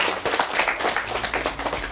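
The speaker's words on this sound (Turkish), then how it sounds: "Alkışlıyoruz arkadaşlarımızı." An audience applauds children on stage at a holiday children's program, with dense, steady clapping from many hands that stays loud and even throughout.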